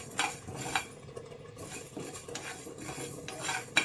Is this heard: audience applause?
no